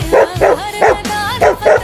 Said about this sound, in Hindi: अबे वो कुत्ता उड़ कैसे रहा है?